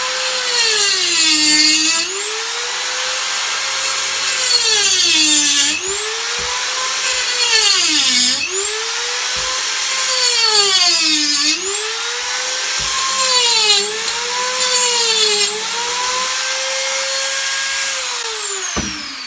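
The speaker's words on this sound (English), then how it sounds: "I've got to cut these with the angle grinder" An angle grinder cuts through material in a kitchen, its loud whine rising and falling in pitch across several long passes with brief dips between cuts, running alone throughout.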